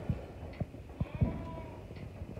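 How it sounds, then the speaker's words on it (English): Ewes and their lambs out on open grass pasture bleat faintly at moderate distance, with a few soft thumps scattered across the short stretch. "I brought 8 ewes and their lambs."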